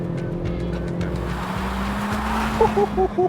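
A Kia car drives along the carmaker's own test section of motorway, with a steady engine and road drone heard from inside the cabin and a few short electronic beeps near the end.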